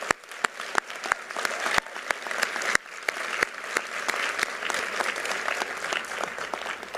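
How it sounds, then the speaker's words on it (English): A graduation audience applauds parents and loved ones at a business school ceremony: steady, dense clapping from a large crowd with a few sharp, close hand claps standing out, sustained for several seconds. "Can I ask us to give them a huge round of applause?"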